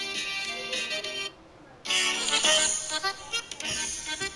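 A song plays over an in-game radio in the video game DayZ, bright tonal music that cuts out briefly and then resumes, fairly loud and alone.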